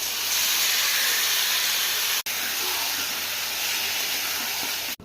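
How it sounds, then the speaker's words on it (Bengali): Marinated mutton hitting a pan of frying tomatoes, onion and garlic, giving a loud, steady sizzling hiss that fills the whole moment with only a brief break. "15 মিনিট ম্যারিনেট করা মটনটাও দিয়ে দিচ্ছি।"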